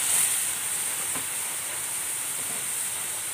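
Water poured onto garlic and ginger paste frying in oil sets off a loud burst of steamy hissing that settles into a steady, close sizzle.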